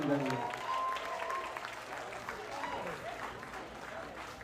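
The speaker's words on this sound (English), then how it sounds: "Big round of applause, ladies and gentlemen." A crowd at a celebration event claps in a steady round of applause that slowly fades, with cheering voices and a host's speech mixed in near the start.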